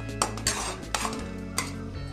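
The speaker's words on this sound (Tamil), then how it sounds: "ஒரு அஞ்சு நிமிஷம் நல்லா கிண்டி கெட்டியான பாகு எடுத்துக்கலாம்" A spoon scrapes and clinks against a pan as thick jaggery syrup for peanut burfi is stirred, giving a few distinct metallic taps over a low steady background, with no talking.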